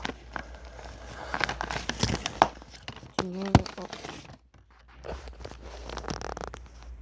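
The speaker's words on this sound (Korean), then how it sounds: "뒷면에 여기 지퍼도 이렇게 있어요" Zipper on the back of a small plastic wallet or card pouch being pulled, with quick rasping zips and crinkly handling noises close to the microphone, a few short runs over several seconds, no talking.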